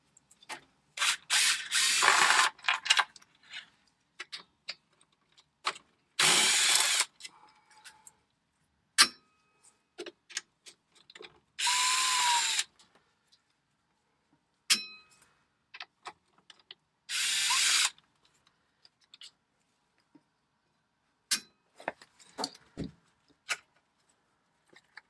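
Removing 10mm screws during an airbox and fuel filter job on a vehicle, heard as short bursts of a power tool or ratchet whirring, separated by quiet gaps and small clicks and clinks, close and fairly faint.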